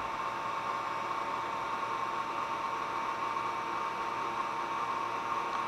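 Zero Lenz dynamo spinning at about 6,500 RPM, giving a steady high-pitched whine over a hiss of motor noise, constant and fairly close with no voices.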